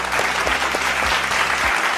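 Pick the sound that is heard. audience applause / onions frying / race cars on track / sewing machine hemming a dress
audience applause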